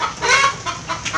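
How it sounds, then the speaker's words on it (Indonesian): Rooster crowing and clucking behind an Indonesian home kitchen where jengkol curry is being cooked, a short, fairly loud burst of bright calls with a couple of quick repeated notes after it. "Ayamnya pun sudah berkokok di belakang."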